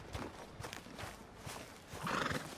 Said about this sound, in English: man, you got some good-looking horses here.